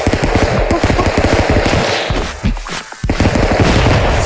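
Rapid, dense bursts of gunfire from the cartoonish multiplayer brawler Stick Fight, including shotgun blasts, dominate a loud, busy stretch with barely a pause near the middle.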